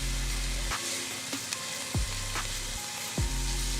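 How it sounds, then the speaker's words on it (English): Diced onion sizzles and fries in melted butter in a pan, a steady close crackle with a few soft clinks and scrapes of stirring. "We're gonna add the diced onion, start to cook that in that butter."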